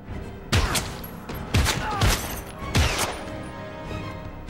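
Gunfire from the video game Heavy Rain: three heavy, booming shots spaced about a second apart, each with a sharp crack and a rumbling tail, loud against a steady background of game ambience.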